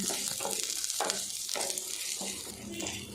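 Roasted gram with green chillies frying lightly in a pan for a tangy chutney, soft sizzling with a few stirring scrapes, close and moderately quiet, with no voice.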